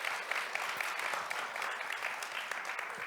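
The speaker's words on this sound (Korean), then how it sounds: "네, 박수 좀 부탁드리겠습니다" An audience at an agricultural outlook forum panel on rural areas and youth claps steadily, a fairly soft, even patter with a few sharper claps standing out and no talk over it.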